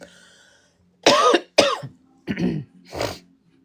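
Four harsh allergy coughs in close succession, near and loud, separated by short pauses in an otherwise quiet room.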